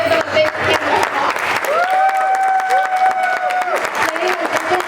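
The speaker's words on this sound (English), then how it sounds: "please give them a big hand of applause" Hearty audience applause after a stage performance, a dense stretch of clapping that carries on throughout, with a few loud sustained whistles or cheers ringing out over it in the middle.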